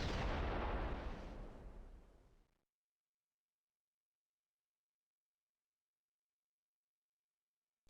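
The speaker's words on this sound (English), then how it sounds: "Fire all weapons." Weapons fire and explosions in a space battle video game, a loud booming blast with a rumbling tail that fades over about two seconds and then cuts to silence.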